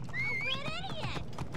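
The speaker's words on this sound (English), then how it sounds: "Get back here, horse. A horse sent by the jackal himself." A horse whinnies with a rising, wavering neigh close by in the video game Assassin's Creed Origins, with a low hum and faint hoof sounds beneath, lasting under two seconds.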